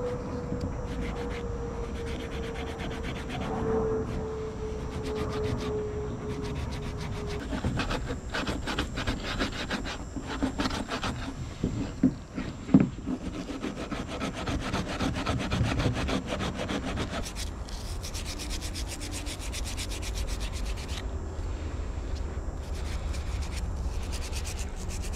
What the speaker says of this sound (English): we are done scrubbing the pliers right here